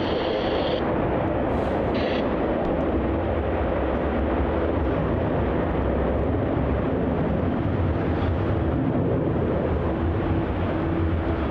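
Qantas airliner QF 69 in One World livery at Melbourne Airport, setting off on a long-haul flight: a continuous, loud engine rumble and roar with faint whining tones, heard alone without talk.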